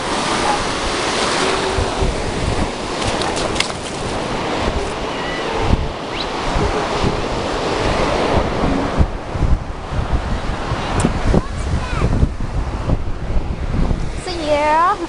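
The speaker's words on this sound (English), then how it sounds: "This is the ocean" Ocean waves breaking steadily at a beach under strong gusts of wind buffeting the microphone, loud and continuous throughout.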